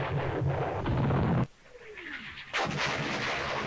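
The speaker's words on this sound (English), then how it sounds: "That heavy naval gunfire again." Heavy eight-inch naval guns firing in a Korean War strategy video game, loud sustained booming roar that cuts off abruptly, then a whistling descent and another heavy blast of rumbling fire.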